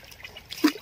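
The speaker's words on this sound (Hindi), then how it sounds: "पानी आ रहा है।" Water trickling and splashing in a river during a summer swim, with a motor pumping water nearby; soft running-water texture builds into a brief louder splash near the end, fairly close.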